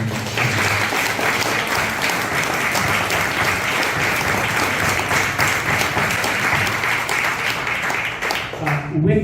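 Steady, dense applause from a local civic breakfast audience honoring election candidates, continuous and fairly loud throughout, tapering slightly near the end.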